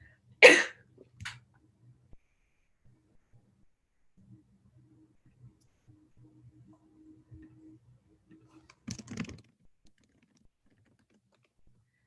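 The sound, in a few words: coughing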